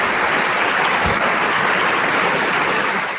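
Applause played on an Italian radio talk show, a dense, steady patter of many hands clapping at an even level throughout, with no voices over it.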